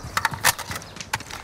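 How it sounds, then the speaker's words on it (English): Weapon reload in Call of Duty: Modern Warfare, a quick run of mechanical clicks and metallic clacks over about a second and a half, with two sharper snaps near the middle and end. "Reloading."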